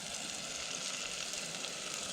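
Snapper fillets fry in a pan with a steady, close, hissing sizzle that carries on evenly throughout, with no voices over it.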